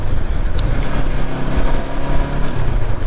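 A Honda NX500 motorcycle engine runs with a steady, smooth low rumble and some wind noise across the microphone, heard alone without talk.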